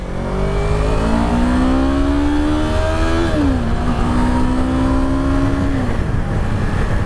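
A Yamaha R3 motorcycle engine accelerates on a main road, revving up through rising pitch sweeps with a gear change midway, loud and close throughout with wind noise and no talk.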